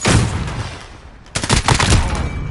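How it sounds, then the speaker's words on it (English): Video game gunfire crackles in two loud bursts of rapid shots during a multiplayer Domination match, with a brief lull between them and no talking. "Taking fire!"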